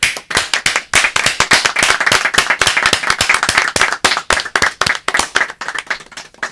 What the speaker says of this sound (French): Et voilà, on s'applaudit tous dans le studio pour cette nouvelle année.